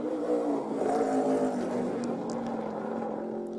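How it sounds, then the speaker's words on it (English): A race car laps the Watkins Glen circuit, heard from a distance as a faint, sustained engine drone holding a steady pitch with slight wavering, no voices over it. "Everybody looking anxiously for Lewis Hamilton to come around from his first lap at Speed."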